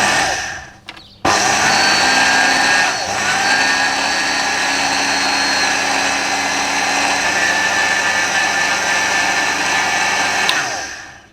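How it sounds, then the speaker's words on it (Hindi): A kitchen mixer-grinder runs continuously, grinding one cup of semolina into flour. After a brief start-up it settles into a loud, steady motor whine that stays near and even, then cuts off just before the end. "सूजी 1 कप, ग्राइंड करके आटा बना लें"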